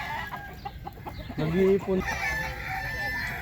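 Chickens on a farm in Al Khor, Qatar, clucking and calling in a few short bursts, with one louder squawk near the middle, amid outdoor noise and brief talk.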